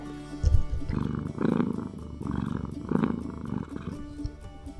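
A kitten purrs loudly and close up, the deep rumbling rising and falling in a slow rhythm of breaths.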